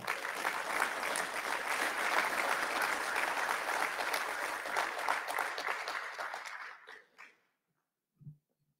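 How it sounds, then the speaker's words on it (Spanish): An audience at a military officers' graduation recognition ceremony claps loudly and steadily, then the applause fades out and a brief sound follows in near silence. "Un fuerte aplauso, por favor."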